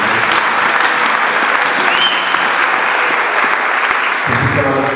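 A worship service congregation claps together in steady, loud, sustained applause, with voices audible beneath the clapping.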